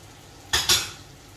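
A spatula scrapes and knocks twice against a pan while red and green chilies, ginger and bay leaves are stir-fried for mackerel in tauco, two quick close clatters between quiet moments.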